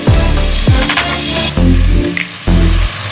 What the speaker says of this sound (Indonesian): Kita aduk sampai kering ya.